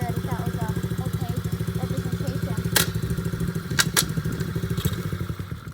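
A Coolster 70cc dirt bike engine runs close by in a steady, fast putter, with a few sharp clunks as it is put into gear; faint speech sits underneath.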